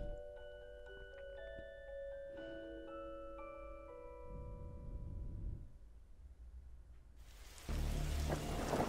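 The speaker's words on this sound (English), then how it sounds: "That's a purple storm." Thunderstorm in The Darkside Detective video game: steady rain with rumbling thunder and a tonal music-like layer, swelling to a loud, close downpour near the end, with no talking.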